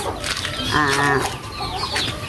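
Asil chickens and their chicks cluck close by, a rooster-like call rising in the middle over a backdrop of busy farmyard clucking.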